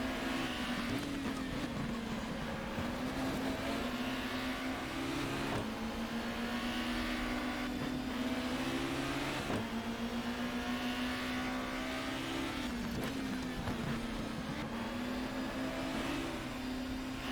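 Race car engine in the GTR 2 racing game at Brands Hatch, a 1994 BTCC touring car, drones loudly and steadily throughout, its pitch rising and dipping with each shift and corner, with no talk over it.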